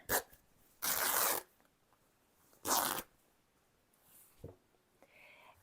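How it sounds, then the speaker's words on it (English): Fabric torn by hand into a strip for a tie, heard as two loud, sharp ripping bursts about two seconds apart, followed by softer handling rustles, close up and without speech. "take a piece of this fabric and rip it"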